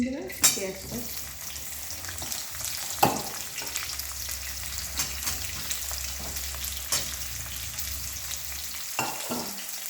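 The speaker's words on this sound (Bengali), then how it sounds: "পেঁয়াজটাকে আমি লাল লাল করে ভেজে নেব।" Onions frying in oil with added ghee for a chicken and potato curry, a continuous medium sizzle broken by a few sharp utensil clinks and stirring scrapes, without speech.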